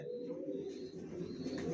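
Original racer pigeons of the Johnson long-distance line cooing in a loft, a soft continuous low murmur of several birds close by, with no talk.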